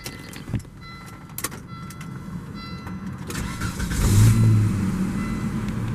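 A 1998 Volvo V70 GLT started with the key: a brief cranking burst catches and settles into a steady, moderately loud idle, with a rise in engine rumble near the end.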